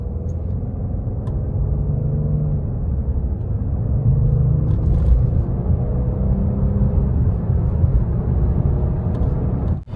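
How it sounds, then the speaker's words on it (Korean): A 2017 Lincoln Continental Presidential accelerating from inside the cabin: a smooth, steady low engine and road rumble that builds gently with no sharp changes, fairly loud and without talk. "네, 그러면 가속 한번 해볼게요."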